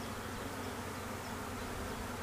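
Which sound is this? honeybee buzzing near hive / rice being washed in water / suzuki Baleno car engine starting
honeybee buzzing near hive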